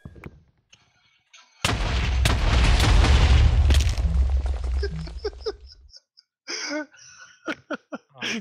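A TNT explosion in Minecraft bursts with a loud, deep boom and a roaring rumble that lasts about four seconds, then fades. Players talk excitedly just before and after it.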